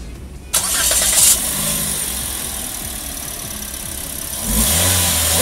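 A 2020 Toyota Yaris facelift with a 1500cc engine starts by push button, catching with a quick rev, then settles into a steady idle before a brief rise in revs near the end, heard close with no talk.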